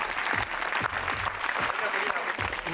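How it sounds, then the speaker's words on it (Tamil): A TV game show studio audience claps steadily, a dense burst of applause lasting a few seconds at close range. "கை தட்டுங்க."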